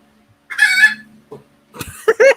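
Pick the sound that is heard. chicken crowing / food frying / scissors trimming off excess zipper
chicken crowing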